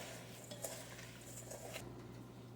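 Ground beef mixed with egg, breadcrumbs, pepper, salt, garlic and Worcestershire sauce in a bowl, giving a soft, steady wet squishing and scraping, close but quiet, with a low hum underneath and no voices.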